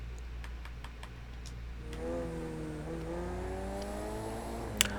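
Race car engine in the Project CARS 2 racing game, a steady motor drone that rises into a revving climb with shifting pitch, plus a sharp click near the end, with no talking.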